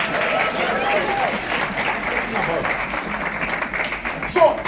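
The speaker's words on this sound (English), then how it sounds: "let's clap hands for Dr. Wilbert" Audience applauding for Dr. Wilbert Mutoko at a business talk, a steady dense wash of clapping held for several seconds, with voices and cheering mixed in.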